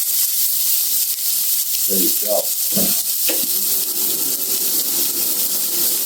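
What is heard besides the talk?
onions and garlic sizzling in a pan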